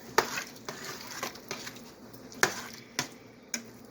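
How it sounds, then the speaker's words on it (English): Potato soup being stirred in a cooking pot, with scattered clinks and scrapes of a utensil against the pot at an uneven pace, close by and fairly quiet over a soft background. "Now, stir this up."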